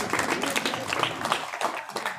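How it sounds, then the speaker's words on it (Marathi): Audience clapping at a school function, a steady, dense patter of many hands applauding together without pause, with a voice faintly mixed in. "जोरदार टाळ्या वाजवा"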